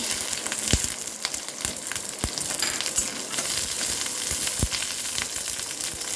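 Black cumin seeds, garlic and green chilies fry in hot oil with a loud, dense crackling sizzle up close, punctuated by sharp pops and spatters throughout.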